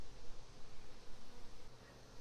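Honey bees buzz in a dense, steady drone close by at an open beehive, a continuous hum with no voices.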